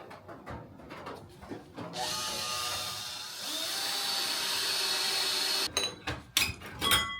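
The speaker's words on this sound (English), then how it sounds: "And then I'll drill that out right there." A power drill whirs steadily for several seconds at close range, drilling out a cabin part, preceded and followed by scraping and knocking sounds.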